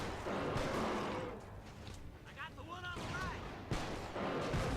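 Explosive rounds from an upgraded Magnum in the video game Resistance 3, dense booming blasts and rumbling bursts at the start and end, with creature cries in between.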